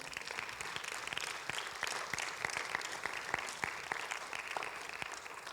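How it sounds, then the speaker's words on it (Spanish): A church congregation applauds steadily, with dense clapping sustained at an even level for several seconds. "denle un aplauso al Señor"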